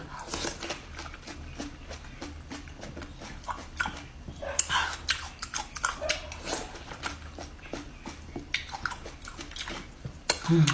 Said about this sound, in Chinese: 大口吃才过瘾。